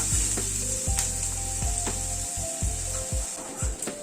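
Sliced onion frying in a pan over a medium gas flame, a constant bright sizzle with repeated rhythmic scraping strokes of a spatula against the pan, close and fairly loud, no voices.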